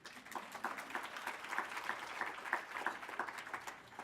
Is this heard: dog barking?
no